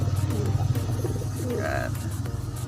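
Pigeons coo in soft, repeated low pulses close by, a steady throaty warble running through the whole stretch, with a brief higher chirp partway through and a faint background hum.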